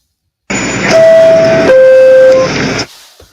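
Train horn sound effect, a loud sustained two-tone blast that holds one pitch, then drops to a lower note before cutting off after a couple of seconds, alone without talk.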